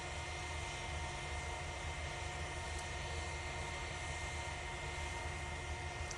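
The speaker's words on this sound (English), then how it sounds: "See that air tanker coming out in the background?" An air tanker aircraft at Manchester Airport produces a constant, even engine roar that sits at a moderate distance and holds steady throughout without pauses.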